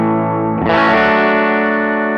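Bridge humbucker of a PRS electric guitar driven through a Greer Lightspeed overdrive pedal, a single loud chord struck at about half a second and left to ring out, sustaining with steady harmonics and no talking.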